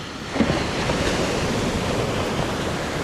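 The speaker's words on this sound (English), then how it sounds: "we've made it safely to the beach" Ocean surf rolling steadily onto Escondido Beach in Malibu, a continuous loud wash of breaking waves with a broad roar and no voices.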